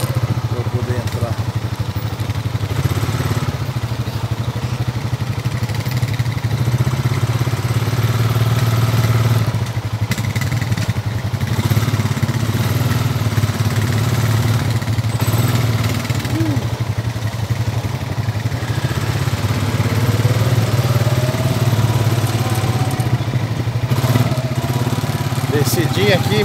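A quad bike engine drones steadily while riding through soft sand at Lagoa do Carcará, Rio Grande do Norte, a loud continuous motor hum with occasional clatter, with people talking over it throughout.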